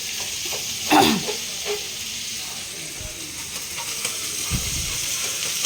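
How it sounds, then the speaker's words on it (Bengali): Fish frying in oil at home in the evening, a faint continuous sizzle with a few clinks and light kitchen knocks, while people talk nearby. "মা মাছ রান্না করছে"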